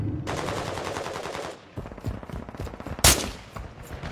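Automatic gunfire in the Call of Duty MW2 DMZ video game, a sustained burst of rapid fire followed by scattered shots and one sharp loud crack near the end.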